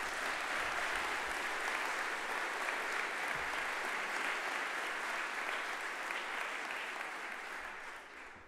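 A crowd at a political rally applauds Dan Barna and Cristian Ghinea, steady dense clapping that carries on evenly for several seconds before slowly thinning out.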